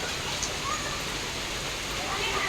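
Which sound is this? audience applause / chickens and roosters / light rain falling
light rain falling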